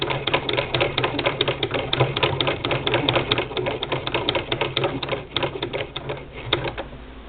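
A Singer Model 20 toy sewing machine stitches with a rapid, even mechanical clatter, a close, steady rattling rhythm that runs unbroken from start to finish with no talking.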